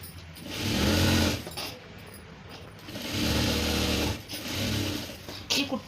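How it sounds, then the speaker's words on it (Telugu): A sewing machine runs a line of topstitching on tailored garment fabric in two steady whirring bursts separated by a short pause, close and fairly clear, with faint handling noise. "ఇక్కడ పైనుండి ఒక కుట్టు వేస్తున్నాను."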